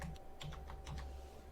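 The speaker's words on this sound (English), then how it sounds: "Just type in the name that you're wanting" Rapid typing on a computer keyboard, with a steady run of light plastic key clicks and a few slightly louder strokes, close and continuous with no talking.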